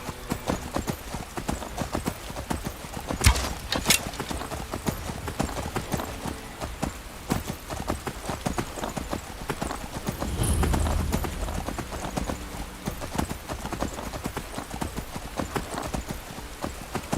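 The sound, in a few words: horse hooves clip-clopping in video game Skyrim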